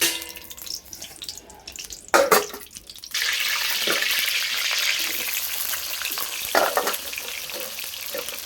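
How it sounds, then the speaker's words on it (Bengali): Chopped onions drop into hot oil for khichuri and burst into a loud, continuous hiss that holds steady, after a few opening clatters and stirring knocks, close and with no talking. "গরম মশলাটা একটু হয়ে গেলেই দিয়ে দেবো পেঁয়াজ কুচি,"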